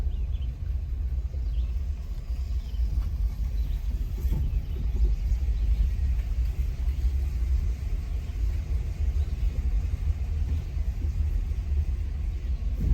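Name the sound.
car driving slowly through Bump Bridge covered bridge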